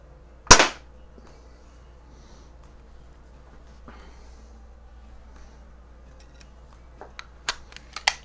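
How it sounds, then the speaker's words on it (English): A Daisy BB gun fires once with a sharp, close crack, followed by quiet and then a few small ticks and clicks near the end. "Let's do some shooting."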